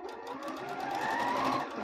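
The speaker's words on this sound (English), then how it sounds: "sew around your mask, and I am using a 3/8 inch seam allowance on this" A sewing machine stitches around a fabric face mask with a 3/8 inch seam allowance, a brief, fairly quiet, steady mechanical whir with no voices.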